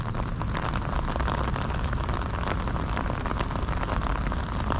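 Steady rain patters densely on a surface nearby, a constant hissing wash of drops with no talking and no letup.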